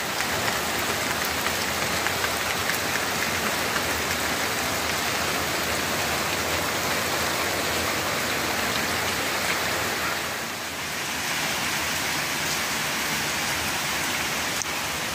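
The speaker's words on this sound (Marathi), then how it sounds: "पावसाचा जोर वाढू लागलेला आहे." Heavy rain pours down in an unbroken, close-up roar of drops hitting surfaces, dipping only briefly near the end before resuming at full strength, with no talking.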